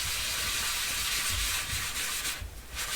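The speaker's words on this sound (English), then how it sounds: "I'm going to do that with my sanding block." A sanding block rubs across a paper journal page with a continuous, close, soft scratchy hiss. There are no voices.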